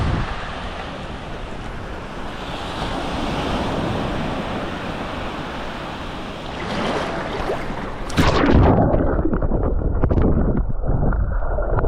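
Sea surf rolls onto the beach at Benidorm in a continuous loud wash, with wind buffeting the microphone and a sharp change in the roar near the end.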